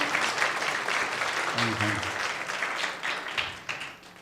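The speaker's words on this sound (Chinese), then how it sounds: "我们掌声欢迎" A church congregation at a Sunday Mandarin service applauds newly baptized members, a dense sustained wash of clapping from a crowd, fairly loud and steady, with a brief voice speaking over it midway.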